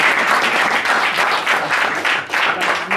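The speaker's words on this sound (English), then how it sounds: "Big clap here." Full, even audience applause at a leadership interview session, a dense wash of many hands clapping continuously and loudly with slight swells.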